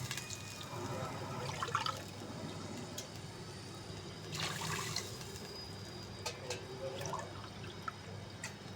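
Water splashes and trickles into a pot of rice in quiet bursts over a low background hum, with some faint drips.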